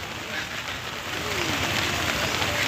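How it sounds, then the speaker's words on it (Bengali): Heavy rain falls steadily outdoors, a dense continuous hiss of drops on surfaces, close and fairly loud with no voices over it. "প্রচুর জোরে বৃষ্টি এসে গেছে বন্ধুরা ছাতা নেওয়া হয়নি আর বৃষ্টিটা জোরেই পড়ছে"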